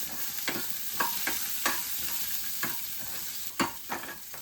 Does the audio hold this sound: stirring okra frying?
yes